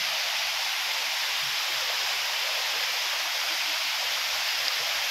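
Steady, loud rush of a waterfall and flowing stream at Engcanto Falls in Bikal, Libmanan, Camarines Sur, a continuous broadband roar with no voices.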